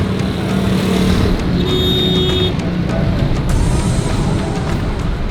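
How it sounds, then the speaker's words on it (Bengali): Dense, steady roadway noise of heavy traffic congestion on a Lahore street, with engines idling and a few horn tones over the continuous rumble, close and loud throughout. "আর মাঝখানে চলছে অবিশ্বাস্য পরিমাণে যানজট।"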